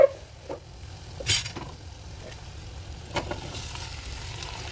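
Onions browning with freshly added potato pieces in a pan for a homemade potato curry, giving a soft steady sizzle with a few scraping stirs and clinks, close and quiet, no voices.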